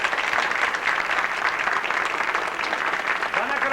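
A crowd at a French-Canadian community evening applauds the mayors, with dense, steady clapping that carries through the whole stretch and no clear voices over it.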